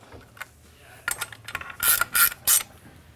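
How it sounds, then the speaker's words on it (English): A 9/16 wrench tightening a standoff adjustment on a tube-cleaning positioner, giving a few quick ratcheting clicks and mechanical rattles that grow into several louder bursts near the end, close by with no talk. "simply tighten using only a 9/16 wrench"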